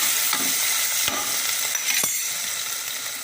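Green chillies fry in a pan for chicken gravy, giving a loud, steady close-up sizzle with a few sharp scraping stirs of the spoon against the pan.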